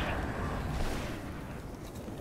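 Gunfire in the video game Destiny, a dense rumbling burst of shots and blasts that gradually fades, ending with a sharp new crack.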